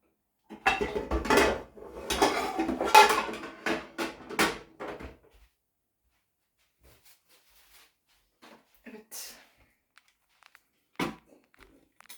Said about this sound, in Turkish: Şimdi şuradaki bulaşıkları şuraya göndereyim.